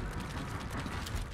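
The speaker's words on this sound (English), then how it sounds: "Reload." Weapon reloading in The Callisto Protocol: a short, dense run of mechanical ratcheting clicks and metallic gear-like clatter, steady and fairly close, with no talk.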